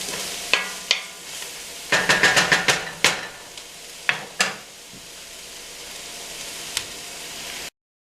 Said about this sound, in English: So let's give it a stir.